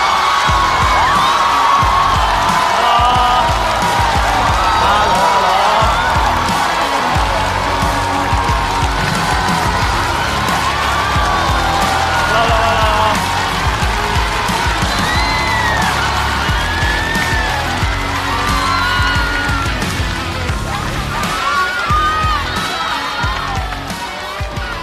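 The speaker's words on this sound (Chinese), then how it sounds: "让我们掌声有请" A Chinese stand-up comedy show audience claps and cheers loudly as a comedian walks on stage, with sustained applause, whoops and crowd roar filling the room, with music underneath, before slowly tapering off.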